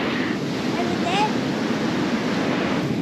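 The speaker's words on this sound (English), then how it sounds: "it's really windy" Strong wind buffets the microphone on a beach at Fingal Bay, a steady loud roar of gusts and surf filling the whole stretch, with faint voices underneath.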